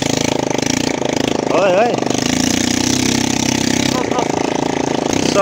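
An ATV engine runs steadily during a ride in Uttarakhand, a close, constant mid-pitched drone that continues throughout while someone talks briefly over it.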